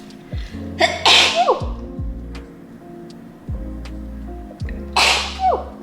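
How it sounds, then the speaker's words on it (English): Two loud, explosive sneezes burst out a few seconds apart, set against steady ticking clicks in a quiet room. "I'm gonna sneeze."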